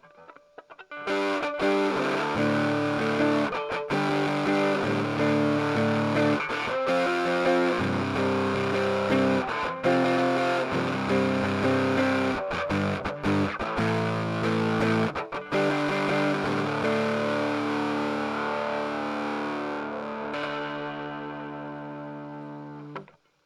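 An electric guitar with heavy distortion, recorded at home through a Focusrite interface, plays a loud sustained run of chords and riffs with brief gaps, ending on a long ringing chord that slowly fades.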